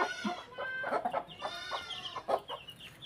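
Chickens clucking on a farm, with a rooster among the fowl, a string of close, uneven clucks and short calls running throughout with no talk over them.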